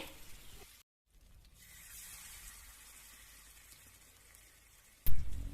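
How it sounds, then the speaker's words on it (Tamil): Fish frying in coconut oil on a dosa tawa, with a steady soft sizzle and hiss close by after a brief gap, ending in a louder knock or clatter. "தோசை தவாவில் பொரிச்சிக்கலாம்."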